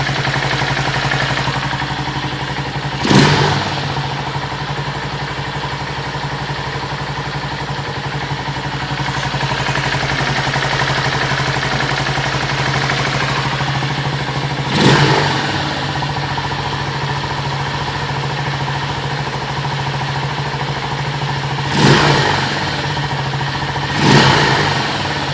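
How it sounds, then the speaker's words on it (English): A 2023 Venom SS3 KP mini 150 motorcycle idles quietly through a quiet muffler, broken by four brief throttle revs spaced unevenly, each a short rising burst before settling back to the steady idle. "The engine sounds really, really good on it. Nice and quiet. The muffler's nice and quiet."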